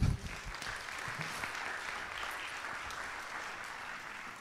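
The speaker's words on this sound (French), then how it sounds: "On peut les applaudir." Church congregation applause, a steady wash of clapping from many hands throughout, fairly distant and even in level.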